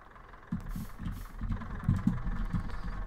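A very loud Bizon combine harvester engine in Farming Simulator 13 drones with a steady low rumble that swells and persists, with no voices over it.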